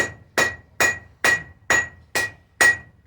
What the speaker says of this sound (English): when you're using a flat-faced hammer on a flat surface anvil, it's actually spreading material in all directions